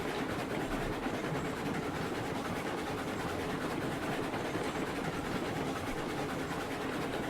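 A locomotive in the video game RailRoads Online rumbles steadily as it sets off, with a dense, continuous roar and faint rhythmic clatter, loud and close throughout, with no voices.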